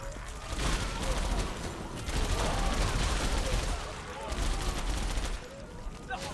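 Bursts of rapid gunfire in the first-person shooter video game BLOODKILL: Goreblast Overkill, set in a dark forest, in several volleys, fairly close and harsh, with quieter gaps between them.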